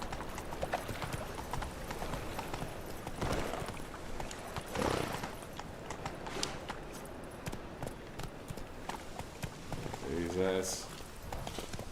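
Roach, the horse in The Witcher 3, gallops with rapid, continuous hoofbeats under a man's frequent exclamations, and a short whinny-like burst rises near the end.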